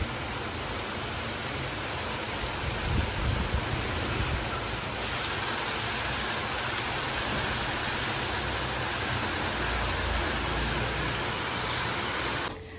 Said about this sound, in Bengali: তার মধ্যে হচ্ছে বৃষ্টি, একদমই শেষ।